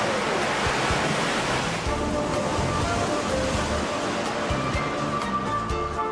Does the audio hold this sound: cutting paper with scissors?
no